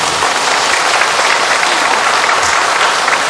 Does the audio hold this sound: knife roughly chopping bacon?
no